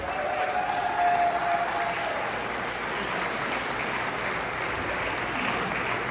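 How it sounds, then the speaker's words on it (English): Sustained applause from an audience cheering a record-setting launch team, a dense steady wash of clapping that holds strong throughout. "One more round of applause for the greatest team on earth."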